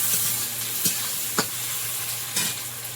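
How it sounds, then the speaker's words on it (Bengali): Onions fry in mustard oil with a close, steady sizzle, broken by three scraping stirs of a spatula at regular intervals. "পেঁয়াজটা লাল লাল ভাজা হয়েছে,"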